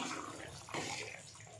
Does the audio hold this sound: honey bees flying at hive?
no